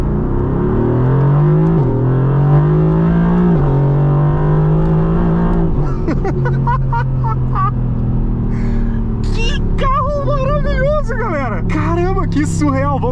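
Mercedes-AMG in Grigio Silverstone grey, running its original exhaust, revs and accelerates with a loud, steady engine drone rising in pitch, while people talk excitedly over it in the second half.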